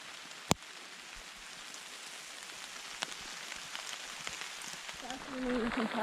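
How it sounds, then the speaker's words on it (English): Afternoon rain falls on a hiking trail as a steady, dense hiss of drops with a sharp crack near the start. The downpour grows louder toward the end. "Like clockwork, the 3 o'clock rain about to get super car washy."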